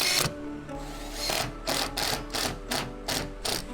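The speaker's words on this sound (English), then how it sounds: "I'm gonna stick a screw right there." A power drill drives a screw into metal roofing on a self-built home, loud close whirring in several short pulsing bursts over a steady low hum, with no talking.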